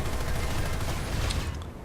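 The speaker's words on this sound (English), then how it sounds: "3 rounds of cannon, 3 missiles, and another round of cannon" Aircraft cannon and missile fire from a Liberator gunship in the online shooter Planetside 2, a dense, continuous barrage of loud gunfire with overlapping bursts and no gaps, filling the moment without talk.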